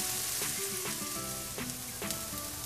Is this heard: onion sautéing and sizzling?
yes